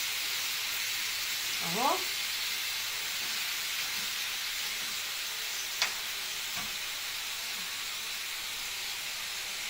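Chicken for shawarma sizzles on a grill as a steady, quiet hiss, broken by a couple of faint clicks and a brief word from a voice.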